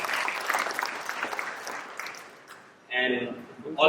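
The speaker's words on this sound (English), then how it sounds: "I would say a big round of applause for" Audience at an Agastya International Foundation event breaking into a round of applause, a dense wash of clapping that thins and fades before a voice cuts in near the end.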